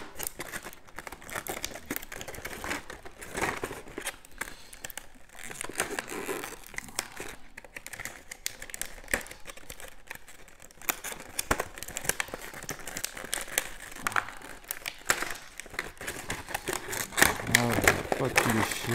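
Tape is picked at and packaging torn off a Rising Sun board game box: irregular crinkling, ripping and crackling bursts up close, with a person talking throughout.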